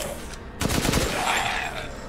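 Gunfire in a video game, a sudden burst of rapid shots that breaks in after a quiet moment and then rings out and trails away.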